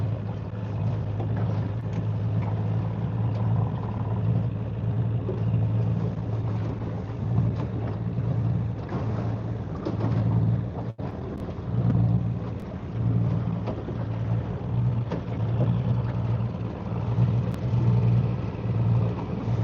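An old outboard fishing-boat motor idles steadily while trolling for northern pike on Pishkun Reservoir, a continuous low drone with wind buffeting the microphone throughout.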